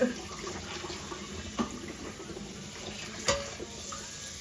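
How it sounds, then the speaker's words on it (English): A tap runs steadily indoors, giving a constant splashing hiss with a few faint knocks and clinks over it. "I know the water's a little bit loud."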